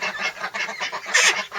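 A pair of call ducks in a garden setting giving repeated loud, nasal honking quacks in quick bursts, close by, with one louder call near the end.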